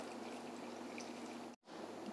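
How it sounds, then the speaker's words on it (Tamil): Water pouring into a bowl of washed rice for soaking, a quiet, steady splashing rush that cuts out for a moment near the end and then resumes. "இது முழுக்க தண்ணி ஊற்றிடுங்க."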